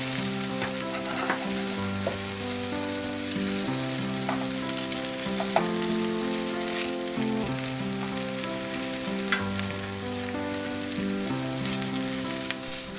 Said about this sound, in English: Flip over, stir the potatoes from time to time.